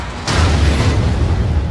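Reactor 4 exploding at Chernobyl in a TV drama, a sudden loud broadband boom that hits hard and then rumbles on densely without a break until it cuts off.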